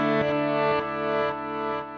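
A chord rings out through the DelayJaVu delay and reverb effect, with dense sustained harmonics and repeated rhythmic pulses from the echo trails washing across the whole stretch at a steady, fairly loud level.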